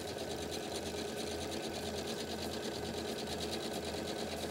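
A sewing machine backstitches fabric while stitching an angel-shaped pillow, giving a steady, close, continuous mechanical whir with a rapid needle rhythm that runs unbroken throughout, with no talking.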